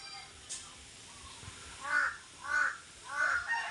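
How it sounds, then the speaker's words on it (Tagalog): A crow caws outdoors, a few moderately distant harsh calls spaced out, the last three louder and evenly repeated, against faint background noise with no talking. "Kahit marami ang kasama mga idol na mga uwak pumupunta dito."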